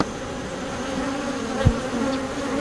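Honeybees drone steadily around an open beehive being inspected on a farm in early July, a continuous close buzz with one brief louder pass near the microphone and no talk.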